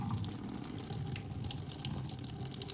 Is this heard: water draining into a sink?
yes